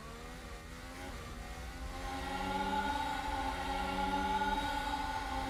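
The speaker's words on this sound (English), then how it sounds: "That Mercedes engine through the tunnel section, sounding really good." A Mercedes Formula 1 engine in F1 Manager 22 drones through the Monaco tunnel, a sustained high-pitched whine that climbs steadily in pitch and grows louder, with no voices.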